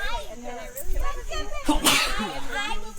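During a behind-the-scenes extended family photo session, a single sharp sneeze bursts out midway, with people talking before and after it.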